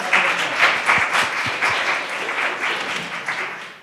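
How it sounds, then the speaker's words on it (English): A small workshop group applauds Debbie in a lively burst of clapping that swells in waves and tapers off over a few seconds, close and fairly loud, with no talking. "A round of applause for Debbie."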